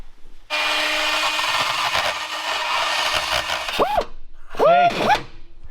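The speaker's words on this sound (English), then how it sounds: "running this with the reamer on it" A power reamer cuts holes in metal on a diesel tow truck build, making a sustained grinding whir. It then cuts off and restarts in short spin-up bursts with rising and falling motor tones.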